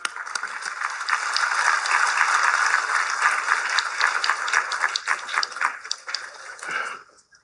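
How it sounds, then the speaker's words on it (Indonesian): A large audience at a presidential address applauds together, a dense, sustained roar of clapping from a big hall that holds for about seven seconds before fading out abruptly. "Kita tepuk tangan."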